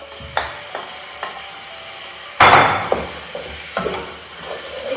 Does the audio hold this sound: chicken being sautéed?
yes